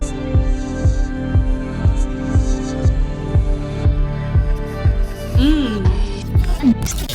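A steady four-on-the-floor kick drum thuds softly like a heartbeat in a song, repeating evenly under synth pads, with a sung melody entering near the end.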